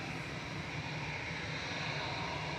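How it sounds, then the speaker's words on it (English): An EasyJet plane on flight 2017 to Gran Canaria at Manchester Airport, heard as a faint, steady engine drone from some distance, brief and unchanging. "This is EasyJet flight 2017 to Gran Canaria."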